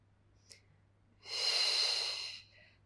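A single long, breathy exhale during a beginner Pilates balance exercise, soft and close, rising smoothly and fading after about a second, preceded by a faint short intake.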